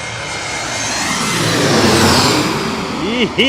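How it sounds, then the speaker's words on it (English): An Embraer E170 jet arriving at JFK, its broad engine roar swelling steadily and peaking midway, loud and fairly close, with a brief tonal whine near the end. "Embraer E170 coming on in"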